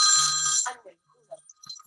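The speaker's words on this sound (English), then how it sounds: "I put my do not disturb sign on my phone, but it rang" A phone rings with a bright electronic tone for about half a second, loud and close, then cuts off into near quiet with brief faint sounds after.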